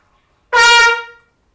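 A single loud horn note held steady for under a second, bright and brassy, then cut off, with silence around it.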